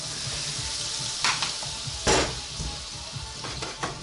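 Butter sizzles in a hot frying pan, a steady crackling hiss broken by a few brief louder bursts and light scrapes.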